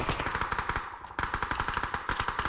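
Rapid bursts of automatic gunfire in the game PUBG: Battlegrounds crackle in quick succession, a brief pause near the middle before the shots resume at a steady, punchy rhythm.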